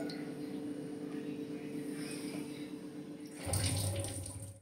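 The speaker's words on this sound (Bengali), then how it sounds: "চালটাকে 2-3 বার একটু ভালো করে আলতো হাতে ধুয়ে নিতে হবে।" Gobindobhog rice being rinsed in water, a steady wash of running water with a louder splashing burst near the end, close and without talk.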